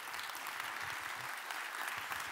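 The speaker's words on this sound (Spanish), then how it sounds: "Démosle un aplauso fuerte a la gente que nos ve." Church congregation clapping during a sermon, a steady wash of applause that runs evenly throughout, faint and somewhat distant, with a low murmur underneath and no clear speech.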